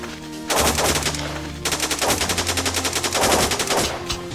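Rapid automatic gunfire in the blocky online shooter Blockpost, loud and close, a short burst followed by a sustained rhythmic stream of shots with brief pauses between volleys.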